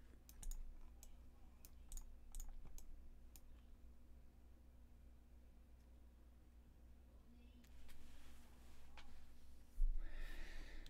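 Keys clicking on a computer keyboard during SketchUp modeling work, sparse sharp taps scattered through a quiet room with a faint hum, a few bunched clicks, and a brief burst of noise at the end.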